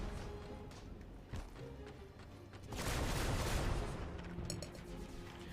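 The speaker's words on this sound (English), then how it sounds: "And we shoot down more Sky Strikers." Rapid gunfire and explosions from the G.I. Joe Operation Blackout video game as Sky Striker aircraft are shot down: a dense burst of shots rises midway over steady background game noise, with a brief metallic ringing near the end.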